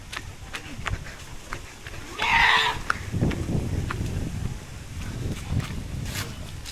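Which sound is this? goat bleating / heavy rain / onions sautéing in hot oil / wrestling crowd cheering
goat bleating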